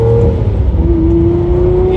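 A loud, close Lamborghini Murcielago engine revs and holds a high, steady drone, its pitch climbing slightly as it runs.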